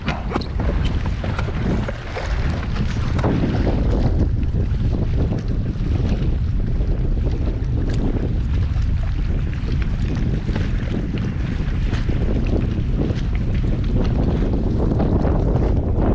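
Strong gusty wind buffets the microphone on a lake during a bass fishing tournament, with water and boat noise underneath, a steady loud roar for the whole stretch with no talk.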